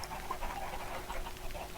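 Chickens clucking on a farm in the video game Minecraft, a run of short repeated clucks and squawks over a constant background hum, moderately loud and close, with no talk.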